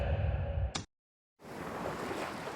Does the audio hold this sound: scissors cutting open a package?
no